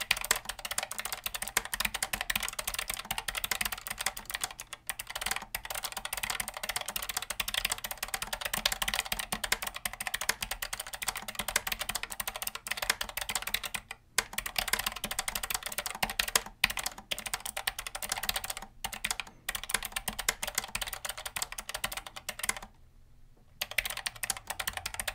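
Typing on a Keychron K7 ultra-slim low-profile keyboard, a steady run of close, crisp key clicks with short pauses between bursts and no talking.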